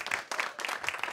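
A short burst of audience applause with closely spaced hand claps at fairly even loudness, brief and continuous.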